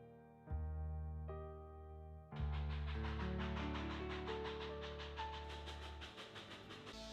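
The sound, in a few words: steam-era passenger train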